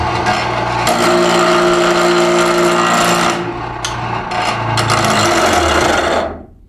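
A bench grinder grinds steel for a spark test, giving a loud steady harsh grinding hiss with short breaks and pressure changes, close up, before the wheel spins down at the end.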